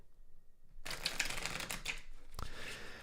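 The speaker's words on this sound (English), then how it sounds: "Okay, let's shuffle 3 times." Tarot cards are shuffled close by: after a quiet start, a crisp, rapid riffling flutter runs for about a second and a half, ending in a soft tap and faint rustle.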